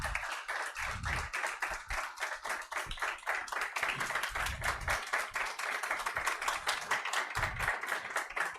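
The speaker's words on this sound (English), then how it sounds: "You can clap for yourself." Students in a classroom clapping for themselves, dense rapid hand claps from a group sustained at an even level throughout, with a few low thumps mixed in.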